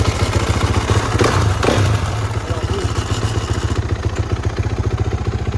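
A 2016 Kawasaki KX450F dirt bike, run with no oil, idles with a rapid, steady, close-up thump. As the clutch is released in first gear, the engine strains and clatters briefly before settling back to idle.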